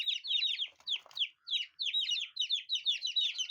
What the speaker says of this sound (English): For the first month, I raised these chicks at home with a simple feeding routine.